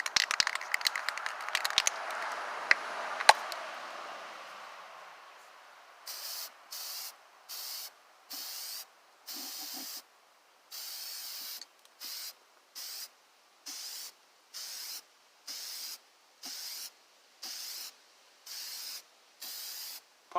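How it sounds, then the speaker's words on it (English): Cheap white spray paint hisses from an aerosol can in a long run of short, evenly spaced bursts, close and fairly loud, following a stretch of rustling handling noise at the start; no one speaks. "Get your cheap white spray paint."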